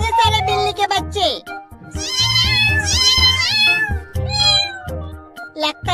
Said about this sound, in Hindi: वो देखो कितने सारे बिल्ली के बच्चे।